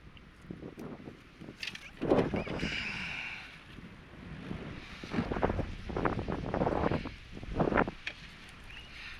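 Wind gusting across a microphone outdoors on a bass fishing trip, rising and falling in rough buffeting bursts with faint water and boat noises, close and fairly quiet, no speech.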